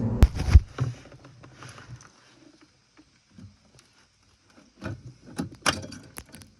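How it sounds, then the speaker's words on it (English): Rusty hose clamps come off a Jeep Cherokee XJ during a fuel pump replacement, with short bursts of metallic clinks and rattles from a 7mm socket separated by near silence. "Remove the hose clamps next with a 7mm socket."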